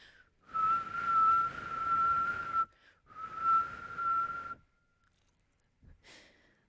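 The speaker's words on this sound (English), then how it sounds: "So when you whistle, it makes a sound wave that's close to the very simplest sound wave," A person whistles a steady, pure tone in two sustained phrases, each held for about two seconds with a short breath between them, close and fairly quiet, followed by a brief breathy sound at the end.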